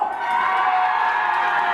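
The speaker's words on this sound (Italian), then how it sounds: "Applauso del centro!" Wedding guests in the centre section of a reception at a masseria in Puglia burst into loud, sustained applause and cheering, a dense crowd roar with whoops that fills the whole moment.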